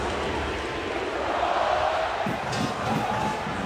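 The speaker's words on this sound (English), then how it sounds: "The crowd back in it here at the Carter." Stadium crowd at a TCU versus SMU college football game at the Carter, a steady broad roar of cheering that swells slightly midway, with no clear voices standing out.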